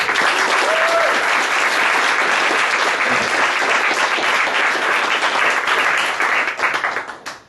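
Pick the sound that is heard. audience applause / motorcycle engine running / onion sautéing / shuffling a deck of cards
audience applause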